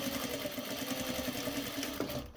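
Sewing machine zigzag or overlock stitching the trimmed edges of fabric piping, a close, continuous rapid whir with a steady pulsing rhythm, heard alone.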